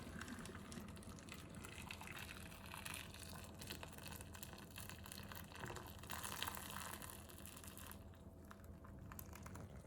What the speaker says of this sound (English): Then I'm going to pour some boiling water on top.